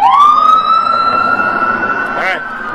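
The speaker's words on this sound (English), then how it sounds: "There goes the ambulance." An ambulance siren wails loud and close as it passes, holding a steady rising tone that briefly warbles near the end, with street noise and faint voices around it.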